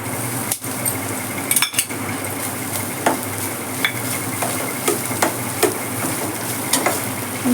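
Fresh grated coconut fries in a pan while a spoon stirs it, making a soft sizzle with rhythmic scrapes and a few sharp metallic knocks against the pan.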